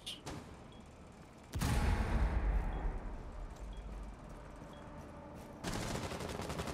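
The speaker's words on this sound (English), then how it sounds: "I'm gonna toss a nade at the window see what happens" A grenade thrown at a window in Rainbow Six Siege, heard as a sudden loud burst with a rumbling tail, after quieter game ambience and followed by another gunfire-like crack near the end.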